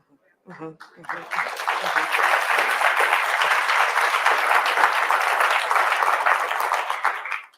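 After a brief spoken phrase, an audience at a Juneteenth 2022 event bursts into loud, sustained applause that holds steady for several seconds before tapering off at the end.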